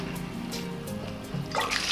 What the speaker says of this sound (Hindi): अब ये पानी को हम डाल के छोड़ देंगे